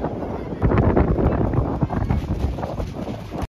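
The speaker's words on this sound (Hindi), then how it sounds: "यहाँ पे बहुत तेज हवा चल रही थी" Strong wind blows across the microphone at Ubhrat's black sand beach at sunset during high tide, a loud, rough, continuous buffeting roar with no voices heard.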